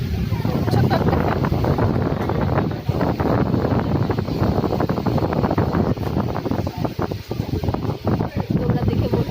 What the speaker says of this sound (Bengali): দেখো ফ্যানের হাওয়া খাচ্ছি